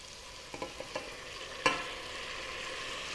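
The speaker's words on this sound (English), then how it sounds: "And now I'm going to add the tomatoes." Tomatoes tip into a frying pan for a chunky fish, tomato and fennel soup, giving a few soft clatters and then a sharp hit that becomes a steady, close sizzle with light stirring.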